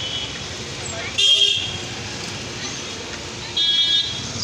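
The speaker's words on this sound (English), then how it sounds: "In city area you have to see full of noise of buses and different type of vehicles" Busy city traffic with buses and other vehicles hums under two short, loud horn blasts, one early and one near the end, with an engine drone between them.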